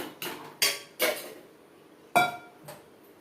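A metal pot and utensils clink and clatter while kara kuzhambu with three kinds of vathal is moved into a serving dish, five sharp close knocks in an irregular rhythm with quiet gaps and no talk.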